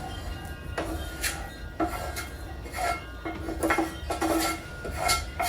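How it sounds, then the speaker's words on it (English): Sautéed vegetables and drained potatoes tumble into a pot, with spoon scrapes and clinks against the metal coming in quiet, irregular bursts close by. "We're just gonna add all of our veggies in."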